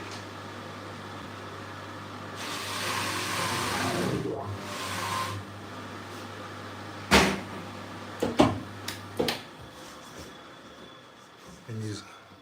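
A polishing wheel motor whirs up into a steady 3000 RPM spin while cleaning a Rolex Datejust case, followed by several sharp clunks and knocks as it runs down.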